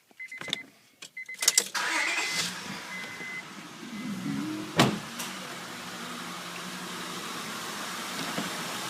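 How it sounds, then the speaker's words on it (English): A 1999-2004 Honda Odyssey minivan, freshly fitted with a transmission cooler, is started for the first time: brief cranking clicks and a sharp catch give way to a steady idle hum that settles in close by. "now what I'm going to do is I'm going to start the vehicle. This is the first start."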